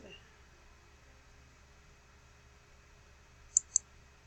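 A computer mouse gives two quick sharp clicks in close succession near the end of an otherwise quiet stretch with faint background hum.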